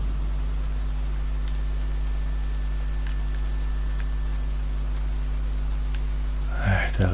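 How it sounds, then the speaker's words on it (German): Steady rain patters on a roof overhead in the video game Days Gone, a continuous even hiss with faint drips, and a brief louder rustle near the end. "Der Regen klappert da oben."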